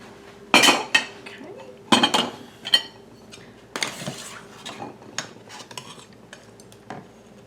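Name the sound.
glass canning jars clinking as they are placed in the canner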